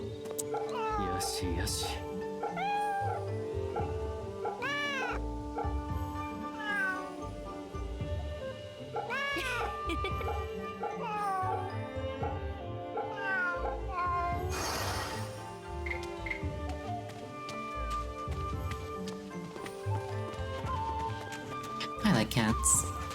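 A cat in the game Fate/Samurai Remnant meows repeatedly in drawn-out, wavering calls, close and clear, over game background sound and intermittent talking.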